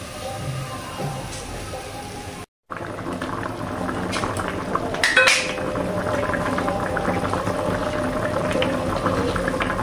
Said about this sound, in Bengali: গ্রেভিটা ফুটে উঠেছে